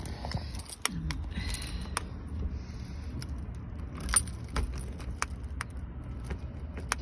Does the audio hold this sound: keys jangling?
yes